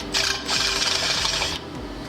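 An NPT thread is tapped into soft aluminium for a turbo VR V6 Commodore ute fuel system, a close, high mechanical whine in two bursts with a short pause between, no talk.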